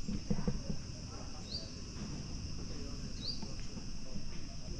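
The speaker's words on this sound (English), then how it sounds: "Can you hear the crickets?" Crickets hum in trees below a quiet street in Penang, a faint continuous high buzz over low background noise, with some distant activity beneath.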